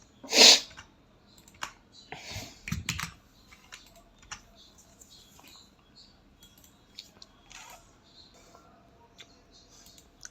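Computer keyboard keys tapped while editing a Word 2010 document, including the Enter key: one sharp louder keystroke, then a few scattered softer clicks and taps, close and fairly quiet.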